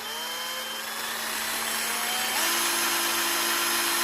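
A Bonchi cordless masonry drill whirs alone, its variable-speed motor pitch rising steadily as it speeds up, then jumping to a higher, louder constant whine.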